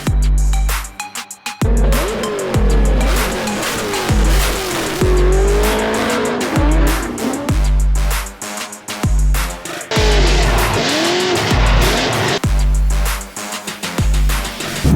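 A car drifts on a cold track, its engine repeatedly revving hard and dropping off while long wavering tire squeals rise and fall across the run, loud and close with no talk.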